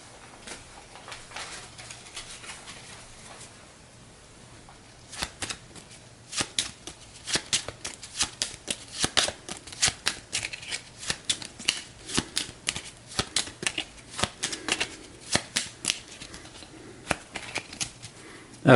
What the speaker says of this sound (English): I just dropped a bunch of cards.